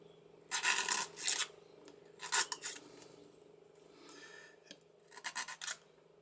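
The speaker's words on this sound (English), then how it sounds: "The elliptical file is great because it gets into those corners." An elliptical file trims a wallpaper edge into a corner with quiet rasping, scraping strokes that come in several short bursts separated by near silence.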